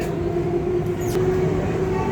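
A RapidX train rolls along steadily with a constant low rumble and a faint tonal hum, heard from inside the carriage, with a brief swishing sound partway through.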